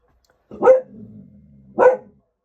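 A dog barks at home: two loud, close barks about a second apart, with a low rumbling growl between them and no talk.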